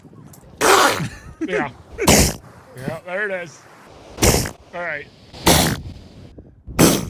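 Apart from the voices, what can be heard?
elephant seals sneezing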